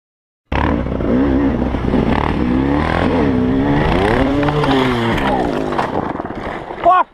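A dirt bike engine with a stuck throttle roars loud and close, holding a continuous high revving drone with wavering pitch for about six seconds before it cuts off abruptly.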